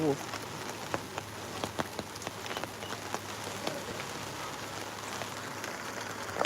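Steady rain falling during a low-pressure spell, a soft continuous hiss with scattered close drips and taps, fairly faint throughout.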